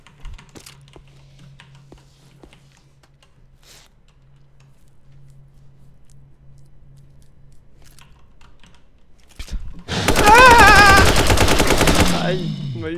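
Rapid bursts of automatic gunfire from the zombie shooter video game Dead Dozen, loud and dense near the end after a quiet stretch with a faint low hum.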